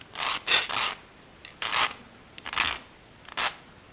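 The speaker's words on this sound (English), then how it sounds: "I'm working with a coarse file, so let me get a finer one here" Coarse file rasping across a workpiece in short, separate strokes, about six close, bright scrapes with brief pauses between them.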